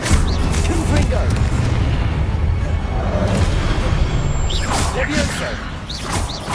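Fiery blast spell exploding in the Hogwarts Legacy video game, a loud sustained rumbling boom with whooshing swells and bright magical flourishes, thick low-end roar throughout and crackling bursts near the end.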